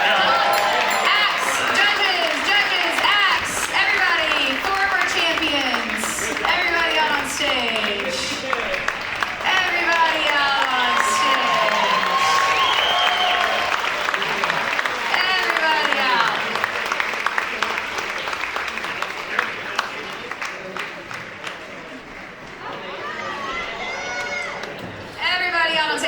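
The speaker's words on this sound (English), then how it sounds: "Will y'all cheer for our friends?" A large audience at the Unless U Got Talent 2023 show cheers, claps and shouts, with children's voices mixed in, as performers are brought back on stage. The roar stays loud and dense throughout and thins slightly near the end.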